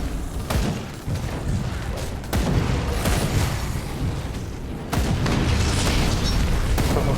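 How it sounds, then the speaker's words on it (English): Deep booming explosions in the action RPG Grim Dawn, several heavy blasts rolling into one another over a continuous rumble, loud and close, with no talk over them. "Oh yeah, those explosions."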